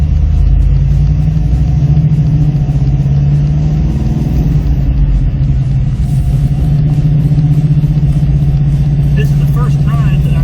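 A 1970 Dodge Challenger engine rumbles loud and close on a drive, a steady deep drone that holds throughout with slight shifts in pitch, with no speech over it.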